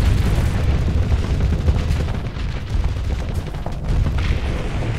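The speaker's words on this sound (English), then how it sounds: "All the big laser shoots. All the big guns shoot." A large laser and heavy guns fire together in the space combat game Starsector, a loud, continuous barrage of booms and rapid gunfire layered into a dense roar, with no speech.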